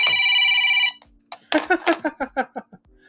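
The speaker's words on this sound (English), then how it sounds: "Sorry, my phone was ringing." A phone rings with a bright, sustained electronic trill for about a second, followed by a person speaking briefly.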